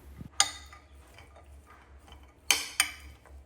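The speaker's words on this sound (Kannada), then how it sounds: "ಏನೇನು ಐಟಮ್ಸ್ ಹಾಕಿದ್ದೀವೋ ಎಲ್ಲವನ್ನು ನೀಟಾಗಿ ಮಿಕ್ಸ್ ಮಾಡ್ಕೊಳ್ಳೋಣ" A spoon scrapes and clinks against a bowl while corn kosambari salad with coriander and lemon juice is mixed, giving a few sharp metallic taps spaced apart over soft scraping.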